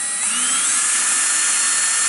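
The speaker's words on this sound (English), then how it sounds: "So we're using 11/64 bit to drill out the glove box." A steady, high-pitched whine of a power drill with an 11/64 bit boring through a plastic Ski-Doo snowmobile glove box, loud and continuous for the whole stretch with no talking.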